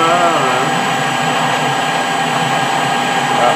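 A metal lathe turning at 330 rpm while a high-speed steel tool takes a 20-thou cut at 6-thou feed on a moderator adapter gives a steady, loud, continuous machining whine and hiss throughout.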